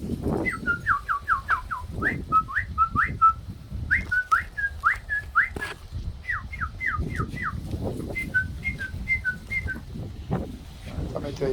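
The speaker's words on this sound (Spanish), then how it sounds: "Un pajarito que tengo ahí. Me gusta cantar siempre de noche." A small pet bird sings at dusk, repeating bright whistled phrases in quick bursts with short pauses, heard clearly over a constant low rumbling background.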